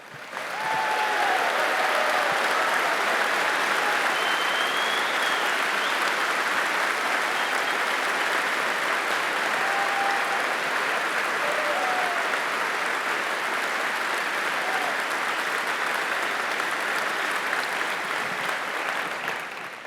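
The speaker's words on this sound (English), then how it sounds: "you folks give them a big round of applause?" A large conference audience claps steadily for about twenty seconds, a dense, even wash of applause with a few faint whoops rising above it.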